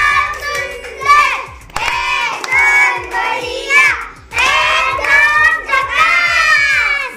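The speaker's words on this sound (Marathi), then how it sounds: "त्याच्यासाठी जोरदार टाळ्या वाजवा सगळ्यांनी." A group of children claps and cheers for a game winner, with lively shouts and high young voices running over rapid, close hand claps throughout.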